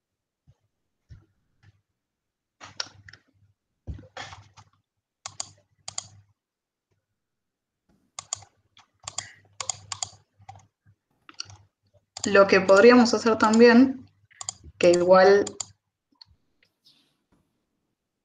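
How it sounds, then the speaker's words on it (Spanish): Computer keyboard keys and mouse buttons clicking in sparse, irregular taps spread across a quiet room, fairly close, with a person talking in the middle. "Genial cómo se escuchan todos tus clics."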